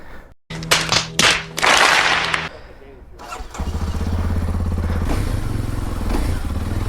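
A Kawasaki KLX 230 Supermoto fires up with sharp bursts and revs, then settles into a loud, steady engine drone as the ride begins, with brief voices near the start.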